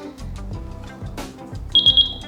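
A RAE Systems MeshGuard transportable gas detector sounds its high alarm, three sharp, shrill electronic beeps in quick even rhythm, loud and close, following some dull handling noise.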